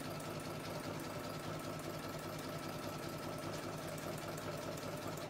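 A sewing machine stitches appliqué onto fabric in a steady, continuous mechanical whir with a fast repetitive needle rhythm, close and even throughout, with no talking.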